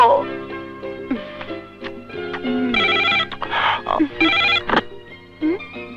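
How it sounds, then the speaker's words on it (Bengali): A telephone rings in a home during a Bangla film scene, its bright repeated electronic bursts cutting in over a tonal music bed, with a brief spoken line near the end. "তোর ফোন"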